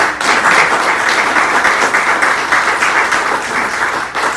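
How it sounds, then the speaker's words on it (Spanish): A church congregation applauds loudly and continuously, a dense steady wash of clapping that holds for several seconds before easing slightly at the end. "Denle un fuerte aplauso a la palabra de Él."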